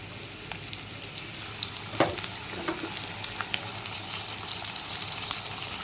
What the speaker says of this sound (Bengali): সবজির সাথে চিকেনটা ফ্রাই করে নিচ্ছি